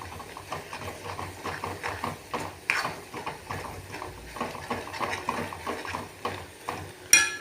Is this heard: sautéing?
yes